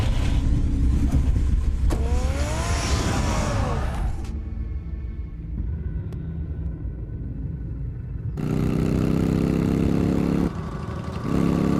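A car engine driving in the Batman Telltale Series video game, a steady loud rumble with a rising whine early on, dropping quieter mid-clip before the engine roar returns.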